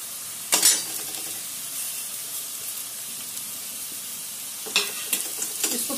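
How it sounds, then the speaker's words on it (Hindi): Onions frying in a pan to light brown, a steady close sizzle broken by bursts of louder crackling and stirring scrapes near the start and end, with no talk. "प्याज को हल्का लाल होने तक हम भून लेंगे।"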